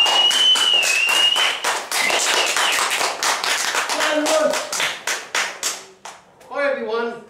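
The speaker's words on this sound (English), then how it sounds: "We'll start a big round of applause." Clapping from a live audience at a Toastmasters late-night-show-style event, strong rhythmic claps that thin into separate bursts toward the end, with a voice speaking and a brief musical flourish closing it out.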